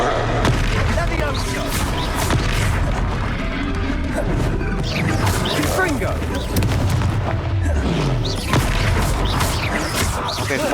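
Explosive blasts from the Confringo spell in Hogwarts Legacy, heavy crashing booms over dense combat noise, with a voice speaking during the fight.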